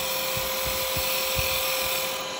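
Carbide chisel cutting a spinning wooden Christmas ornament on a woodturning lathe, a steady whirring scrape with a few brief rhythmic cutting pulses as the tool rolls over the bauble, close and continuous.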